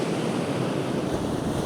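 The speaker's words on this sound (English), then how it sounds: "So as the waves wash over the rocks," Ocean waves wash over rocks on the Cornish coast, a loud, steady rushing hiss of surf with some wind noise buffeting the microphone.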